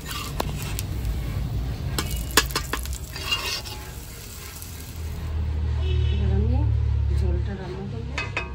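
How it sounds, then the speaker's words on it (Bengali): Potatoes and cumin frying in oil in a pan, a steady sizzle with stirring and scraping of a utensil against the pan, with a louder hiss swelling midway; occasional brief clinks, and a voice talks at times. "আলু জিরা অল্প কটা ভেজে নিচ্ছি।"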